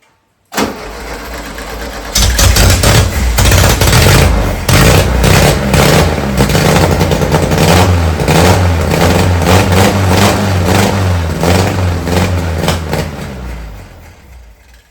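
A VW Beetle engine cranks briefly, then catches and runs loud and steady with uneven revving, close up and on its own for over ten seconds before it winds down.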